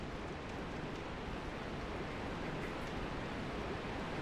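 A waterfall in Dark Souls near Blighttown pours as a steady, broad rushing roar, even and unbroken, fairly soft and heard alone.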